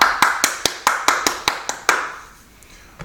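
Crisp, evenly spaced claps in a church worship service, about nine sharp strikes in a steady rhythm that stop abruptly, leaving a quiet room with only faint room tone.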